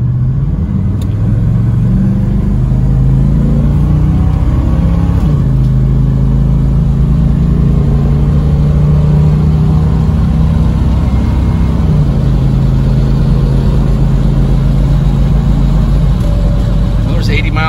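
A car with a TH400 automatic and a switch-pitch torque converter set to high stall drives at speed, its engine a loud, steady, close drone. The pitch drops smoothly at two gear shifts while someone talks over it.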